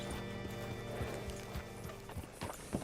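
Hooves clip-clop in a steady, regular walking rhythm at close range, with a short whinny near the end, from the video game Red Dead Redemption 2.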